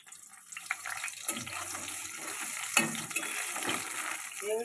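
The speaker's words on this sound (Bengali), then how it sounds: "কড়াই সর্ষের তেল দিয়ে বেগুনটা আমি আগে ভেজে নেবো" Eggplant fries in hot mustard oil in a wok, giving a broad, watery hiss that swells after a soft start, with a few sharp crackles and no voices.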